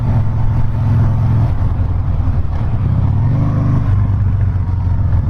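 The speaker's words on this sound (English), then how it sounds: "Just cruising on this bike" A Harley-Davidson Softail cruiser motorcycle rumbling steadily while riding, its deep engine drone loud and continuous with a slight shift in pitch partway through, no voices.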